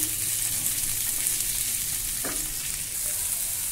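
Finely chopped onion with curry leaves sautéing in a pan, a steady close sizzle with a single brief scrape partway through, no voices.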